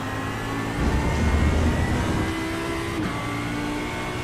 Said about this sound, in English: So it's a Mustang followed by a Porsche.